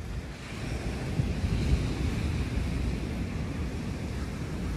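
Ocean surf rolls onto a quiet beach at Puerto de la Cruz, Tenerife, as a continuous wash of waves. Wind buffets the microphone steadily underneath, and no one speaks.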